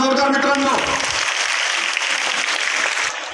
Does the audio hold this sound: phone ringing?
no